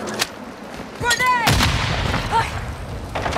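A grenade explosion in Warzone 2 on Ashika Island goes off with one loud boom, followed by lingering rumble, with other gunfire cracks nearby and voices around it.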